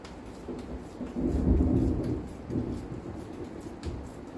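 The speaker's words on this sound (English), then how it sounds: "It's storming outside." Thunderstorm outside, with a low rolling rumble of thunder swelling and fading over steady rain, heard indoors at a moderate distance with no talk.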